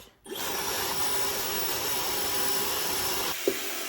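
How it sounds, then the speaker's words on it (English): A handheld blow dryer blowing hot air onto a rolled beeswax candle starts abruptly and holds a steady, close, whooshing whir for several seconds, with a small bump near the end. "So I continued to put the blow dryer on it and heat it."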